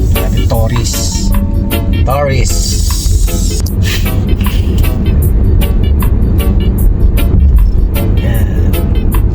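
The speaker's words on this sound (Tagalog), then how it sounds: "Problema ito sa street traffic." Busy street traffic on the Las Vegas Strip, a loud continuous roar of vehicles and crowd noise with clattering transients, while people talk over it throughout.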